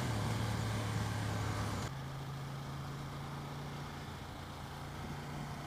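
A motorcycle engine drones steadily at speed, then its tone drops and settles as it shifts up a gear, with wind noise throughout and no talking.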